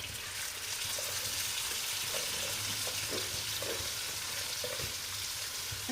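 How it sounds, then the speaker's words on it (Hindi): Rice goes into a cooking pot with water for chicken biryani, heard as a continuous close watery hiss and rush with small scattered clinks and splashes throughout. "अब इसमें हम चावल डालते हैं"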